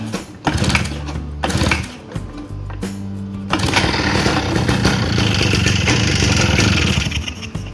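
A Spider Mower grass cutter's small engine clatters loudly near the microphone, sputtering in uneven bursts before catching and settling into a steady, rough running drone.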